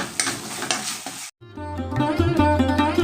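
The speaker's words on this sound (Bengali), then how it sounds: "অল্প একটু একটু জল মিশিয়ে আমরা মশলাটাকে কষিয়ে নেব" A spice paste cooks in oil with a splash of water over a low flame, a sizzling, stirred sound that cuts out briefly, then returns as a brighter, busier frying with spoon scrapes, close and fairly loud.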